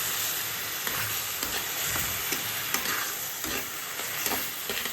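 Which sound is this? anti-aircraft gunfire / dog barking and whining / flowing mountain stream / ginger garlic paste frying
ginger garlic paste frying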